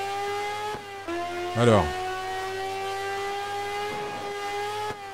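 Racing motorcycle engine, a Fury, in the video game Classic Racers Elite, holding a steady droning rev with a brief rising whine partway through, while a voice speaks briefly.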